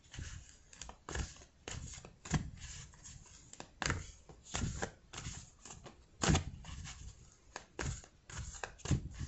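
Tarot cards are shuffled and pulled from the deck, giving a steady run of close, papery riffles and slaps that repeat at an uneven rhythm.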